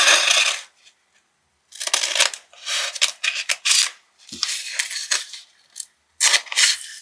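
Black grid transfer tape from TeckWrap being handled and cut for a craft project, with close bursts of rubbing, crinkling and scraping separated by short pauses, loud and near with no talking.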